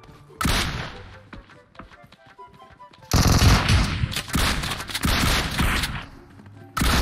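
Rapid bursts of automatic gunfire in PUBG Mobile, a loud continuous barrage after an opening shot, pausing briefly then erupting again in dense repeated volleys close by.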